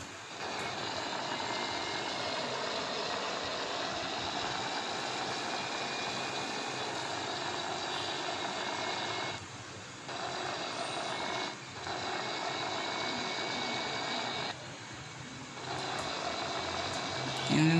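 A Scania bus with a Laksana SR2 XHD Prime body idles in Bus Simulator Indonesia, giving a faint, steady engine drone that stays level throughout, apart from a few brief dips.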